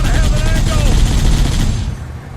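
Cannon blasts and dense gunfire in the Halo Master Chief Collection on Xbox One, loud and continuous bursts that thin out toward the end.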